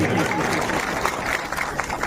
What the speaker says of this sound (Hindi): एक बार जोरदार ताली बजाइए अपने लिए